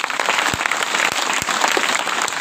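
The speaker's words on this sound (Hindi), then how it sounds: "एक बार आप ताली बजाइएगा।" An audience at a school assembly in Pratapgarh claps steadily, a dense, even wash of applause that holds at the same loudness from start to finish.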